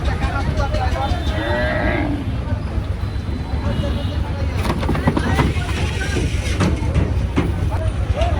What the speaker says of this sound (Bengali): যেদিকে তাকাবেন শুধু গরু আর গরু